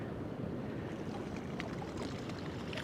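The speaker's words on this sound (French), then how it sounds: "On a les vagues qui montent dans le cours d'eau qui se trouve juste à côté." Waves surging up into a stream beside a beach on an island, a broad continuous wash of water and surf, soft and steady, with wind noise and faint splashes.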